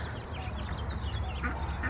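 A farm flock of ducks quacks faintly, with scattered short nasal calls overlapping against a steady low rumble of background noise.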